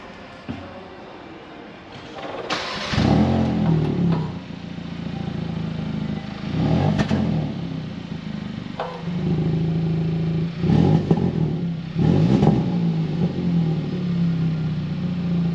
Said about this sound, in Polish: Wersja GT to również usportowiony wydech.